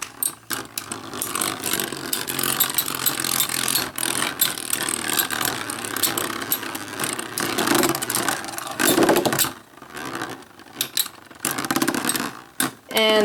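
Beyblade Legends Meteo L-Drago LW105LF tops spin and clash in a plastic stadium, a dense close whirring and rattling scrape with brief sharp knocks, dropping out for moments near the end.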